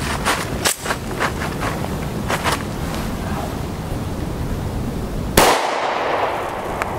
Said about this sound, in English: Shooting 10 millimeter sure is fun.